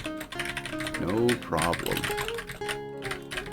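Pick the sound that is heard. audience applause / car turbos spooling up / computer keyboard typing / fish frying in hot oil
computer keyboard typing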